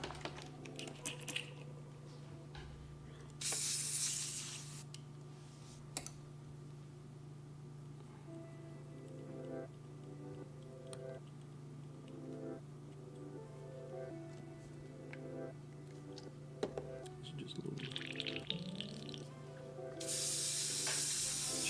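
Airbrush spraying paint in short hissing bursts, two or three loud blasts separated by quieter stretches with a steady background hum and faint clicks.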